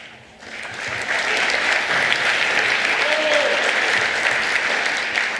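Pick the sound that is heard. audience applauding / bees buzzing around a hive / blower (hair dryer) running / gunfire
audience applauding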